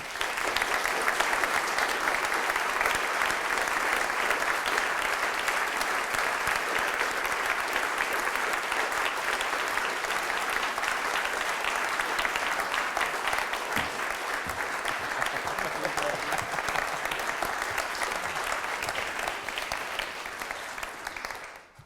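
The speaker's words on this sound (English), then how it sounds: "I told you there'd be a huge applause, Jim." Loud, sustained audience applause fills a lecture hall as James Lovelock is welcomed, a dense, even wash of clapping that runs unbroken for about twenty seconds before tapering off.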